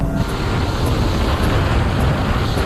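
Loud, steady roar of a Toyota GR Yaris with a 1.6-litre three-cylinder and a MINI GP with a two-litre four-cylinder accelerating side by side in a rolling drag race, dense engine and road noise with no talk.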